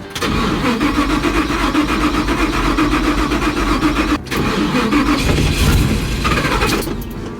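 A Chevrolet C10 truck engine cranks with the choke on, a loud, steady churning that breaks off briefly midway, then resumes and seems to catch near the end.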